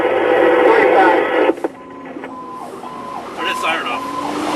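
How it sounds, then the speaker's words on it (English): Fire engine siren from Engine 5311 responding to a house fire call on New Street in Nazareth Borough, loud and wailing at first, then cut off abruptly partway through, leaving radio chatter and quieter rising tones underneath. "Turn that siren off."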